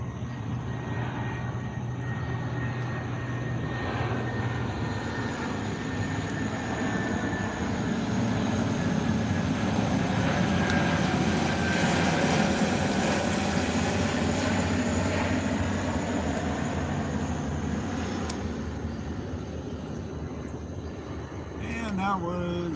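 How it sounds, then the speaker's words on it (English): A Lockheed C-130 military transport aircraft passes overhead near a house, its broad engine drone swelling to a loud peak mid-clip and then easing off, steady throughout with no talking. "You're about to hear a C-130 go over, so if I get quiet, you're going to hear that thing."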